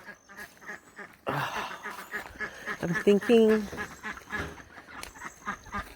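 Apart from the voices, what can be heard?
ducks quacking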